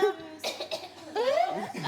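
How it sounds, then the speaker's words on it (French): A short cough breaks out, followed by a bit of laughter and voiced sounds, close and fairly quiet. "C'est la toux là qui m'a pris."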